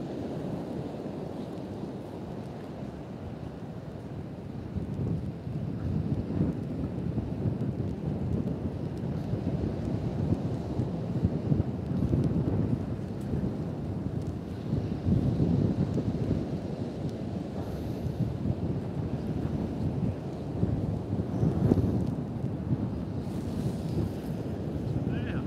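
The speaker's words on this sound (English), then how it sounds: "it's now pouring with rain" Heavy rain and strong gusting wind on a shore-fishing beach at Trimingham, roaring and buffeting the microphone in uneven surges alongside the rumble of surf, loud and continuous for the whole stretch.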